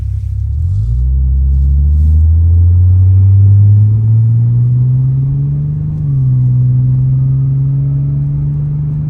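A 1990 Nissan 300ZX twin turbo with a T-top driving in touring mode, its engine droning loud and close as it pulls up through a gear, with a brief shift dip and a steady cruising hum under cabin rumble.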